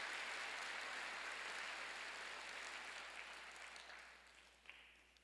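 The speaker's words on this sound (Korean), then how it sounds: "박수 한번 쳐주세요." A church congregation at a Wednesday worship service breaks into steady, dense applause that fills the room, then gradually thins and fades toward the end, with a few scattered claps trailing off.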